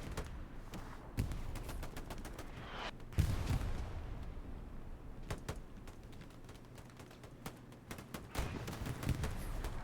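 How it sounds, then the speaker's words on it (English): Gunfire and rocket blasts in a competitive WWII video game match, including a Panzerschreck, as dense crackling shots and sharp booms keep overlapping at a distance under constant battlefield noise. "Prank instantly pulling out the Panzerschreck."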